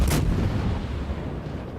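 Heavy warship guns firing during a World of Warships naval battle: a single booming salvo with a sharp crack at the start, then a long low rumbling tail that fades slowly, with no talk.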